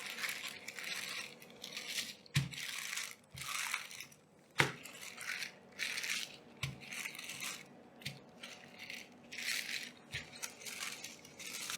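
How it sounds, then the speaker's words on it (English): Baking paper for a spinach pie is handled and crumpled in short, crisp rustling bursts with a few sharper crackles, close and fairly quiet, with no talking. "I'm gonna take a second sheet of baking paper and then I'm gonna punch it out like this slowly"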